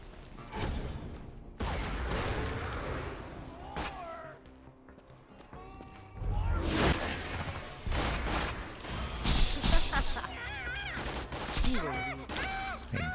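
Rapid gunfire from Borderlands, with Maya using an Unkempt Harold legendary pistol and chain-reaction shots, crackles in dense, loud volleys and scattered bursts. Explosive thuds and electronic game effects mix in, and a voice talks at times.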